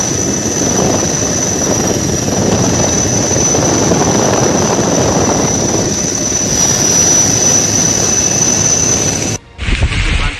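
An army or coast guard rescue helicopter flies over floodwaters in Gujarat, its loud steady engine and rotor roar filling nearly ten seconds before a sudden cut to a brief, thinner sound at the end.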